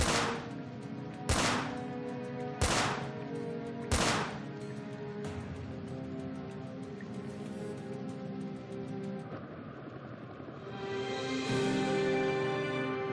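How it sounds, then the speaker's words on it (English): Four loud, sharp gunshots spaced a second or so apart over a continuous rumbling background, followed by a rising noisy swell. "I heard gunshots in here"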